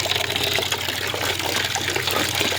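Water running and splashing steadily as herbs are rinsed in a basin for homemade natural soap, a continuous close trickle and gush with no talking.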